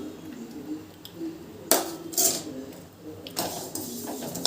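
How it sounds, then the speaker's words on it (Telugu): Sesame seeds pour into a hot pan for roasting while idli podi is being made, giving a few bursts of crackling rustle over a low background hum. "ఇప్పుడు ఇందులోకి నువ్వులు కూడా వేసుకుందామండి"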